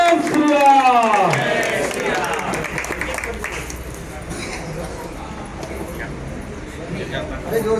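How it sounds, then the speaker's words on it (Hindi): Crowd clapping and cheering at a BJP political rally in Mumbai after a new member's induction, with a loud announcer's voice at the start, then dense steady applause throughout. "सभी लोग जोरदार ताली बजाएंगे."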